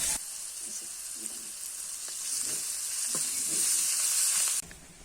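Ginger and garlic fry with onions and green chilies in oil in a wok, a steady hissing sizzle that swells gradually, with faint stirring knocks, until it cuts off abruptly near the end.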